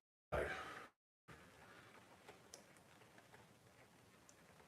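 Fluid art paint splattering in a spinning cup, a soft scatter of light ticks and patters like rain on a tent, faint and close, following a brief louder burst.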